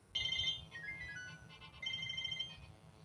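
A phone ringtone for an incoming call in a comedy drama plays a bright repeating electronic melody, fairly loud and close, alone with no talk, pausing briefly before the tune resumes.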